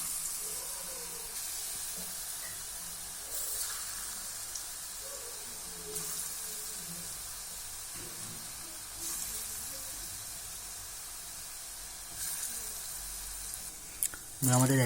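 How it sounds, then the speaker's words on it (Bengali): Banana fritters for kolar bora sizzle in hot oil, a steady crackling hiss running throughout at moderate level, with brief louder bursts as more batter drops in and a sharp clatter near the end. "এবার একটা একটা করে বড়া ছেড়ে দেব।"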